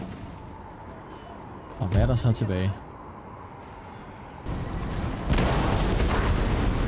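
Artillery shelling in the Empire: Total War video game during a Great Northern War battle with Sweden, heavy cannon booms and rumbling fire, loud and sustained, with someone talking over the battle.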